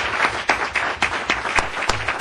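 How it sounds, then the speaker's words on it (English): Audience applause at a school board of education meeting, a steady wash of clapping from a modest crowd with a few sharper individual claps standing out, continuing throughout at moderate loudness. "I'd like a nice round of applause for Jessica Matos"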